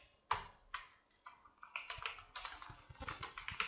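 Fingers type on a computer keyboard, entering a route path in code, in a close, quiet room: a few separate keystrokes at first, then a quicker run of crisp clicks.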